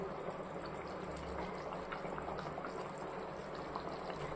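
A pot of thick tomato curry with no vegetables, simmering under a lid, bubbles steadily, with a continuous dense simmering and popping texture that stays even throughout.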